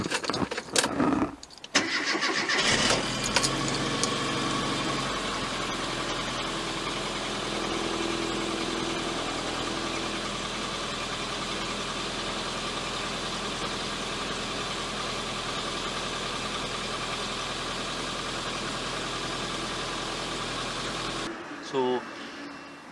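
A Classic Mini with single-point injection cranks briefly and fires, then settles into a steady idle with a different ignition coil fitted, the engine running evenly and close by until it cuts off near the end.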